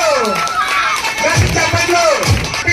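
A crowd gathered at a rangoli competition prize announcement, heard as a dense, steady wash of voices and clapping, with a louder voice calling out over the top.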